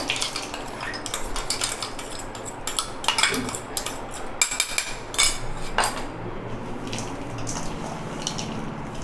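A spoon scraping and clinking against a bowl while biscuit dough is mixed with ground peanut and cashew powder, in uneven clattering bursts close by with no voice over them.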